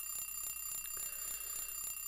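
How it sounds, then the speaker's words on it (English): An alarm clock in a bedroom in Silent Hill 3 rings with a rapid, steady electronic beeping, high and piercing, repeating evenly at about four pulses per second with nothing else over it. "There's an alarm clock here."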